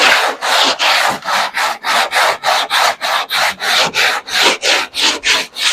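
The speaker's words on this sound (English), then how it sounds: "I like to just hit it with some rougher sandpaper" Rough 80-grit sandpaper rasps rhythmically across a dented door, about twenty brisk back-and-forth strokes in an even, loud, close pattern.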